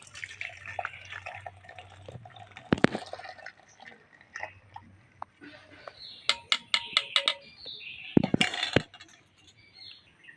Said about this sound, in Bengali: এই জলটা আমার লাগবে তাই জলটা একটু ছেঁকে নেবো আমি এই ছেঁকে হাড়িতে রাখছি